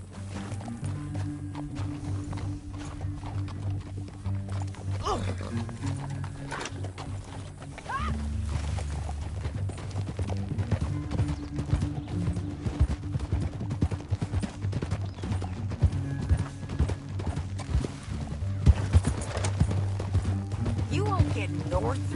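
Horse hooves clip-clopping at a run in the Western video game Red Dead Redemption 2, a steady drumming gait under low ambient rumble and a character's speech, growing denser and louder toward the end.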